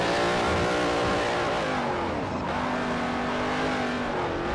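A V8 Supercar racing engine in Forza Motorsport 4 roars loud and continuous, with steady high revs, shifting pitch and a hint of tire squeal through a race, no voices.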